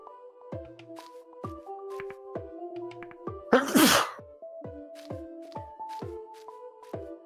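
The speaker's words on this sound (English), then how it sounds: "I just sneezed just now." A single sharp, close sneeze bursts out midway through, over light repeating electronic game music from the puzzle game Bokura.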